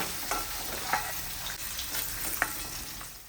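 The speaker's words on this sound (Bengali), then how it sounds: "আর পনির আমি একটু ভেজে নেব।" Paneer cubes lightly frying in hot oil in a pan for a vegetable biryani give a steady, close sizzle, with a few soft clinks of stirring spaced through the clip and no talking.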